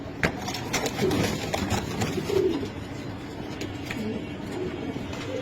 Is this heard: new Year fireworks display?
no